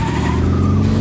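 Loud, continuous Lexus performance car noise with a sustained high squeal over a deep engine rumble, steady throughout like tires skidding.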